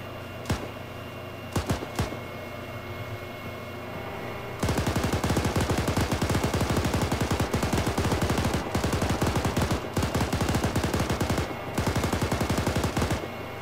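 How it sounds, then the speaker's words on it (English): A BMP vehicle's gun fires in Arma 3. A few scattered shots come first, then a sustained rapid burst of automatic fire continues with brief breaks until the end. "Is that the BMP firing?"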